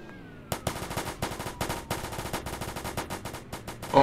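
Rapid gunfire bursts in a police roleplay video game, a near, loud series of sharp cracks, roughly a dozen shots in irregular quick succession over a steady background.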